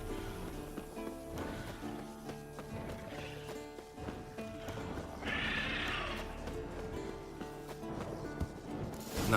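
Horse neighing and hooves from the warhorse Scorpion in The Witcher 3 game, heard amid layered game music and battle sounds, with a brief brighter whinny-like burst midway.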